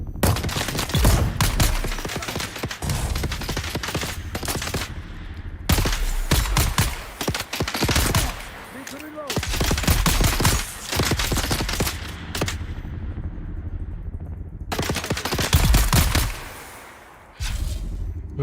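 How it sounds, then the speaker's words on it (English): Rapid gunfire bursts from the Dune Awakening video game, loud and close, arriving in repeated volleys of several seconds with short pauses between them. "Who else is shooting at me?"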